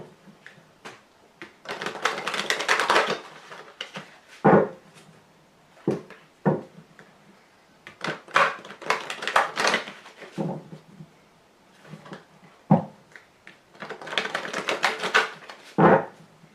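Lenormand fortune-telling cards are shuffled and drawn, with repeated bursts of riffling and flicking broken up by sharp taps as cards are set down on a surface, fairly close and clear.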